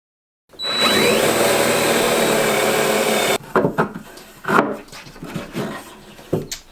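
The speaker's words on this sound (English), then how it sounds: "I'm going to just glue it in there and drill a new one." A power drill bores a new hole through a glued wooden dowel plug in a cornhole board, a steady close whine lasting about three seconds, followed by scattered knocks and clatter as the work is handled.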